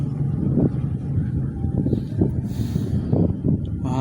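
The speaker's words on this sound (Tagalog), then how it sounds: "Mahangin pa naman, sa daming bangka dumadaan." Small fishing boats pass over choppy water on a windy day, their engines a steady low rumble mixed with gusty wind buffeting the microphone, with a brief flapping burst near the end.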